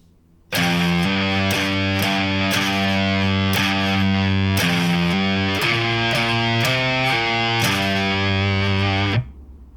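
Heavily distorted electric guitar playing the first bar of a stoner rock pentatonic riff: thick, loud, sustained low notes and chords in a steady rhythmic pattern, ending abruptly after about nine seconds, with no talking.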